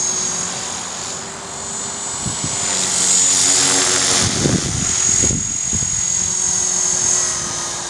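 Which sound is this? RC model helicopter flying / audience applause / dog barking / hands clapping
RC model helicopter flying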